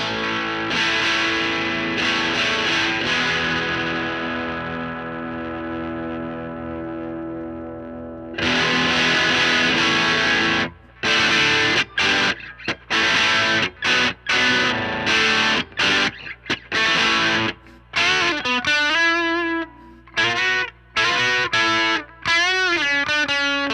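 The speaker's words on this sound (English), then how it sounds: "Now I'm going to try it with the MTG Tube Distortion from Fender." A Fender Player Plus Nashville Telecaster played through a Fender MTG Tube Distortion pedal, first a long sustained distorted chord ringing out, then a series of loud, choppy riffs and stabs with short gaps, played alone.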